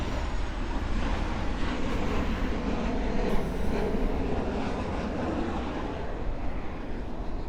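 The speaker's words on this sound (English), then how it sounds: "Ryanair's coming in." A Ryanair airplane passing overhead gives a steady, loud, broad roar that holds for several seconds with no voices.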